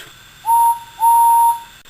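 Two clear, steady steam locomotive whistle blasts, a short one and then a longer one, loud and close with little else around them.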